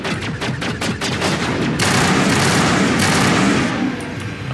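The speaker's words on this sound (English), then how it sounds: "What the fuck is shooting at me?" Gunfire aimed at the player in Mass Effect 1: a rapid stream of loud close shots in quick bursts, then merging into a dense sustained roar of automatic fire and explosions.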